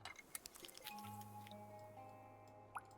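Watering plants in the video game Cloud Gardens, a series of soft squishy drips and small liquid splashes over a faint tonal game hum, quiet and close.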